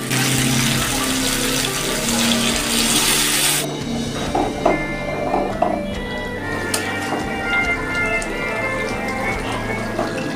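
Water pours into a pot of simmering chicken curry, a steady broadband splash that cuts off after a few seconds, leaving quieter bubbling and clinks.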